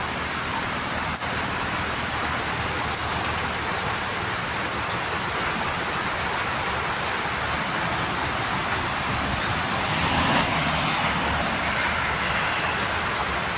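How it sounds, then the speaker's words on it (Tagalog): Heavy rain pours steadily on a flooded stretch of the Tacloban to Ormoc Road, a dense, continuous hiss with a slight swell near the end and no distinct vehicles. "Na malakas ang ulan ngayon dito sa parting Tacloban to Ormoc Road."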